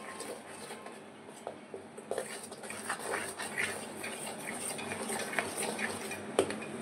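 One and a half spoons of gram flour (besan) whisked with a spoon in a bowl for a chilla batter, heard as soft, quiet, repeated scraping and light clinks against the bowl, with no voice.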